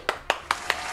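Four sharp, evenly spaced bursts of applause-like clapping from a small group, each brief and fairly quiet, with a faint steady background between them.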